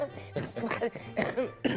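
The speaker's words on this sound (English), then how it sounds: "she really, yeah, needs to clear her throat" A woman clears her throat in a few rough, broadband bursts, close and fairly loud, with some voiced sounds mixed in.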